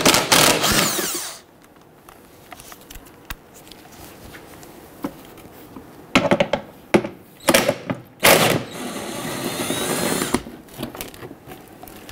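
Transmission splash guard bolts come off a 2011–2021 Jeep Grand Cherokee 3.6L V6 under a power tool: a loud whirring burst at the start, then quieter clicks and several sharp bursts of loud, rattling impact.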